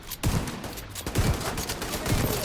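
Rapid gunfire bursts in a team-based shooter video game, loud and dense, with repeated volleys of shots filling the whole moment.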